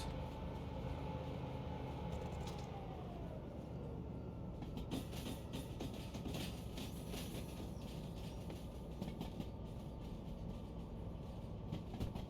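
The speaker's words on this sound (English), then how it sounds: "There's a train there, so I'm gonna have to reverse in there." Train rolling along in the Derail Valley railway simulation game, a quiet continuous low rumble with faint clicking and rattling over the rails, steady throughout with no speech.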